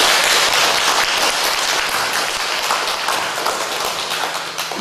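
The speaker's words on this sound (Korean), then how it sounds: "여러분의 격려와 사랑의 박수를 부탁드리겠습니다" A church congregation applauds in steady, dense clapping that fills the room, loud and continuous throughout with no talk over it.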